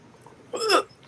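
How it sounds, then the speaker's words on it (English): A single sharp hiccup, caught while swallowing a drink, breaks out in one brief, loud, voiced burst against a quiet room. "I got the hiccup so bad."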